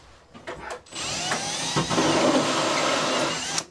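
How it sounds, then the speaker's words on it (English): A Milwaukee drill bores through plasterboard on a garden room build, a steady whirring grind lasting a few seconds after some brief knocks, close and fairly loud, then stopping abruptly. "we just give the drill a little shake and just check this Milwaukee"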